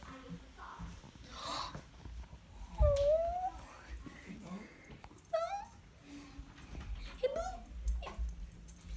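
A dog recently adopted from the Animal Humane Society whimpers indoors in a series of high, rising whines, three clear cries among soft snuffles and breathing, close and fairly quiet.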